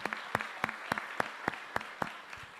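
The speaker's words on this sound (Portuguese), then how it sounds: "Vamos aplaudir ao Senhor Jesus" A church congregation claps in a steady, rhythmic beat, the even claps sounding moderately distant and fairly soft throughout the short stretch.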